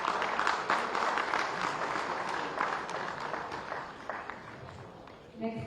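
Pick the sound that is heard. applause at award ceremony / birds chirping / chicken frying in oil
applause at award ceremony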